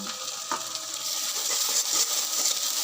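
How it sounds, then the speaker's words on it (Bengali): Spices frying in a pan for spicy pasta, a dense continuous sizzle up close with light scraping stirs scattered throughout. "এই মশলাগুলো অনুযায়ী দিয়ে দিলাম, ভালো করে ভেজে নেব।"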